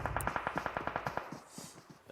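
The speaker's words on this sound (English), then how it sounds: "As we do hear gunshots in the distance." Rapid bursts of automatic gunfire in PUBG Mobile, about a dozen sharp shots in a quick steady rhythm for over a second, then a few fainter, more distant pops trailing off.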